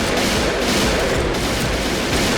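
M200 sniper rifle fire in the shooter game Point Blank, heard as a loud, dense, continuous wash of gunfire noise with no clear gaps, filling the whole moment.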